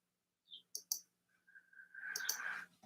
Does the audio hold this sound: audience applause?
no